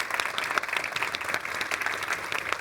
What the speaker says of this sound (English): let's give the speakers a big round of applause